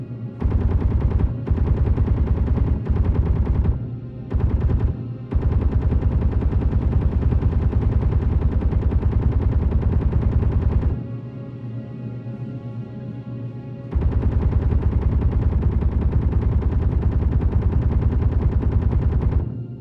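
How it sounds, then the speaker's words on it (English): Gatling turret in Space Engineers firing long continuous streams of rapid rounds, loud and close, broken by short pauses and a quieter stretch before the fire resumes. "Gatling turret."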